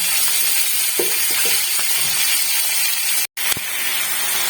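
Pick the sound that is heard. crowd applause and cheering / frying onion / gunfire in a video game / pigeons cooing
frying onion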